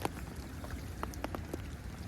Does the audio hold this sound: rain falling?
yes